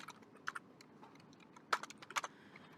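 Code being typed on a computer keyboard in a quiet room: soft, close clicks arriving in small clusters, with a brief flurry near the end.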